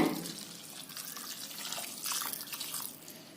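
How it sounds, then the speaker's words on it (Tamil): About a quarter litre of water splashes and pours into a metal pressure cooker for banana stem kootu, a bright trickling rush that tapers off near the end; no one speaks. "தண்ணி வந்துங்க 1/4 லிட்டர் ஆகிற மாதிரி ஊத்திடுங்க."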